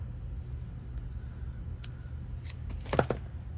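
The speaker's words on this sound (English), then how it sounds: "So just like that, we'll take our scissors, we'll snip" Scissors snipping beading thread while finishing a butterfly necklace, a few small sharp clicks near the end over quiet room hiss, the last snips closest and clearest.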